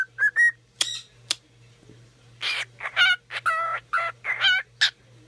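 A cockatiel whistles and sings close by in short bright bursts, some chirpy and melodic, separated by pauses over a faint low hum.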